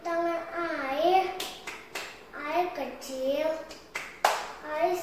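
A young kindergarten child sings a water clapping song, clapping hands in water, with several sharp claps and splashes breaking through the close, bright singing voice.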